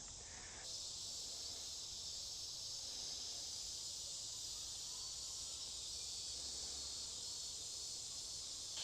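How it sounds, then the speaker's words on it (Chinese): Cicadas drone among the mossy, collapsed stone ruins of the Angkor temples in Cambodia: a thin, continuous high-pitched buzz, faint and distant, with no talk. "听到一些蝉鸣"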